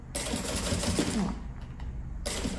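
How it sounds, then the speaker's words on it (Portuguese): A sewing machine topstitches the base seam of a backpack, running in a steady continuous whir that eases off briefly near the end and then starts up again. "Eu vou passar uma costura rebatendo."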